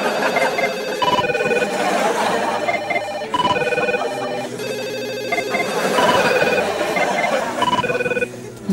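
A red desk telephone rings loudly and steadily, bright repeating bell tones sounding through the whole stretch without a break.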